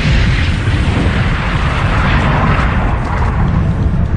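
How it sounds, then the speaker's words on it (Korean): A dense, loud roaring blast of broadband rumble depicts a supernova as a collapsing stellar core explodes, a continuous thunderous wash with no talking. "그러면 중심 핵이 무너지면서 폭발하는 겁니다."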